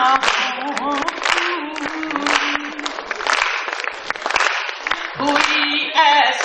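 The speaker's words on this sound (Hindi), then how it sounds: "तालियां हों" Audience applause at a Hindi poetry recital (kavi sammelan) at Taj Mahotsav, a steady clapping wash with a voice heard over and between it.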